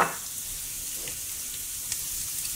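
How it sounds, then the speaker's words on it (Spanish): Chopped garlic and pine nuts frying in hot oil in a pan, a soft steady sizzle with faint crackles and a light stir at the start, close and continuous without speech. "Y los ponemos en el aceite y los freímos."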